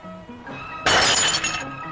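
A glass bottle smashes loudly in one sudden burst, its bright crash ringing on for close to a second before fading into quieter background sound.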